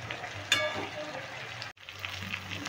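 Mourala fish patori wrapped in bottle gourd leaves fries in a wok, giving a steady soft sizzle with a brief dip, over a low hum.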